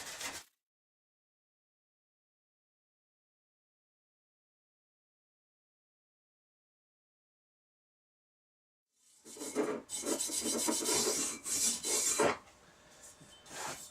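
Coarse abrasive scrubbing surface rust off a pitted machete blade: a brief rasp at the start, long silence, then a sustained stretch of rough scraping strokes near the end.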